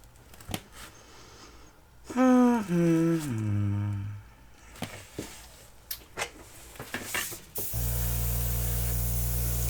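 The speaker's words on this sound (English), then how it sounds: "So we will airbrush it out." An airbrush sprays over wet acrylic pour paint, a steady close hiss with a low hum that starts abruptly near the end, after an earlier stretch of tonal squeaks and light tapping.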